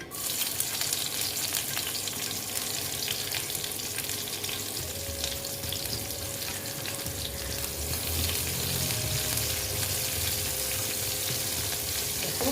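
Chopped onion frying in oil with black cumin seeds for a boal fish curry, giving a steady, loud, dense sizzle and crackle throughout with no one talking.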